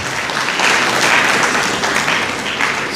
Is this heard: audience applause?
yes